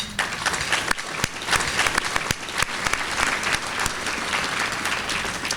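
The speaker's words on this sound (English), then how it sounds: "So you need to give yourselves a round of applause." Audience applause at a 2019 Democratic party political gathering in Kansas: close, dense clapping with individual sharp claps poking out, sustained at a lively level throughout.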